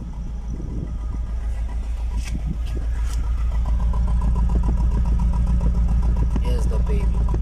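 A Volkswagen Golf engine idles after a cold start, a steady close mechanical drone with light ticking and a few sharp clicks, growing slightly louder toward the end.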